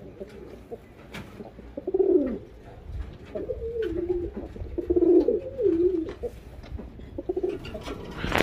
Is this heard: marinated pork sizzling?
no